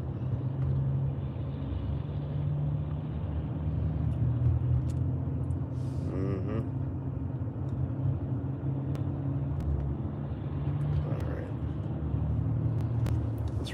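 Steady low rumble of a car's engine and road noise heard from inside while it drives slowly behind a truck, with a brief mechanical squeal partway through.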